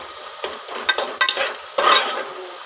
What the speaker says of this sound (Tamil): நல்லா தக்காளி வந்து குழஞ்சி வெந்துக்கணும் ஃப்ரெண்ட்ஸ்.